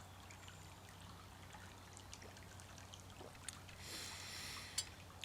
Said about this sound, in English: The sound of the babbling brook trickling past my earlobes.